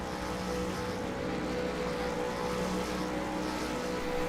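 V8 Supercar engines revving on the grid at a race start at the Nürburgring in the iRacing simulator, a dense, steady, loud engine drone with layered tones and no talk.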